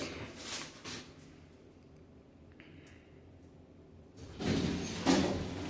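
An old elevator door slides along its track, running slowly at reduced speed, with a soft rumbling start and a louder, close scraping movement near the end.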